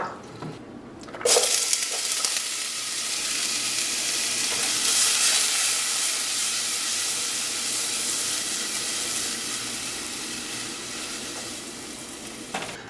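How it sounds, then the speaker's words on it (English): A steady sizzling of onions frying in a pan, loud and continuous after a brief quiet start, with a soft hiss throughout. "your onions should be frying pretty well"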